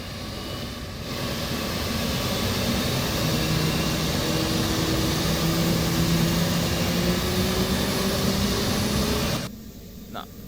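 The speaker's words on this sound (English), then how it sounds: "we can turn the APU on. You hear that? That gets this fans spinning." An F/A-18C auxiliary power unit spins up in the DCS flight simulator, a loud, steady turbine whine and rumble that rises slightly in pitch and holds before cutting out near the end.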